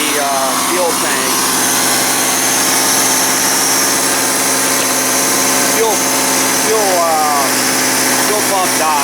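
A 1982 third-generation Chevrolet Camaro, fed from an external one-gallon fuel cell and pump after sitting 20 years, runs at a loud, steady idle close by, with faint chirps and a voice briefly audible over the engine.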